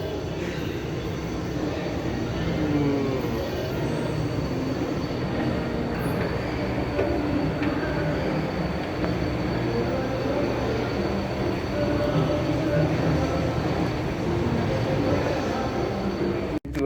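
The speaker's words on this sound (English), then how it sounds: "So we are going to take this gondola." A gondola cable car heading toward the Korean DMZ rumbles continuously, with a steady mechanical drone and faint metallic squeals of wheels on cable running throughout.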